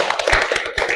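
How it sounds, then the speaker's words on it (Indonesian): Students clapping their hands in a classroom, a brief burst of dense, close applause with a few sharper taps standing out. "Tepuk tangan untuk kalian semua."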